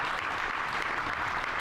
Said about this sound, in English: I think these guys deserve a round of applause for being,